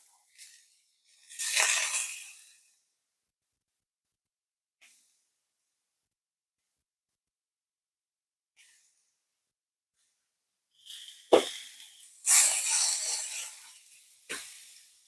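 Ground beef drops into a hot pan and hisses, with a burst of sizzling early on and louder, crackling frying near the end, separated by a long quiet stretch; no talking.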